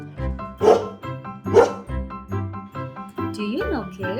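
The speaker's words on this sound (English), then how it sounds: "This is a dog." A farm dog barks twice in short, loud bursts, followed by a yip-like call, all set against bright, cheerful background music. A voice is also present.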